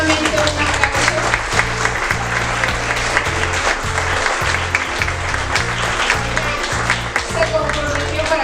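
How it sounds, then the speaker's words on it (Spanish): Loud, sustained applause from a university audience at a lecture on media and election campaigns, a thick, continuous roar of clapping hands with a low rhythmic musical hum running underneath. "Pues les pido nuevamente un aplauso."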